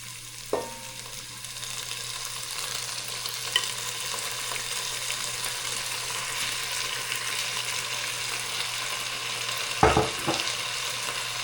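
Garlic, onions and beef frying for kaldereta, a constant hissing sizzle, with a couple of clanks from a spoon or pan at the start and near the end.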